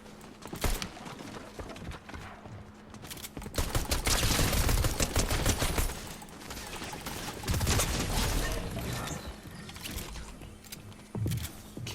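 Gunshots from Fortnite gameplay ring out in scattered bursts, with heavier clustered firing mid-way and later, mixed with game noise and moving footsteps.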